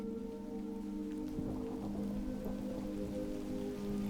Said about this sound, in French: quelques gouttes de pluie s'échouent sur votre visage